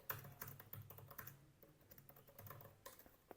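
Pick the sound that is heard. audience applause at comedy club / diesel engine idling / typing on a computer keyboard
typing on a computer keyboard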